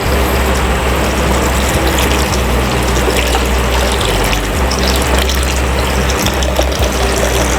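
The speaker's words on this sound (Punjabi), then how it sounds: "ਇਹ ਆ ਜਾਏਗਾ ਜੀ 2 ਗਲਾਸ ਪਾਣੀ।" Two glasses of water pour into a jug of mint lemonade with squeezed lemon, a loud, steady, close gush of running water with no pauses.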